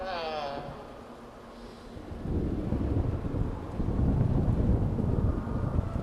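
Rain and thunderstorm in the video game The Lightkeeper, a rolling thunder rumble and steady wash of rain growing louder, with a brief voice at the start.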